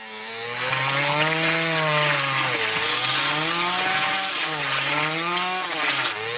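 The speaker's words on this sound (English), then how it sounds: "if you wanted more chainsaw action, you're in luck. Derek saws this guy's head in half." A chainsaw roars continuously in a gory horror-comedy scene, its loud buzzing whine rising and falling in pitch as it cuts through a man's head.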